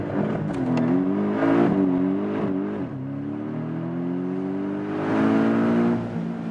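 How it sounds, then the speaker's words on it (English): A Porsche 718 Boxster GTS four-cylinder launching hard in Sport Plus with launch control, the engine droning loudly through rising gear pulls, with a brief dip at a shift before it climbs again close up. "So, Sport Plus, hammering the brakes, hammering the throttle, the launch control was activated"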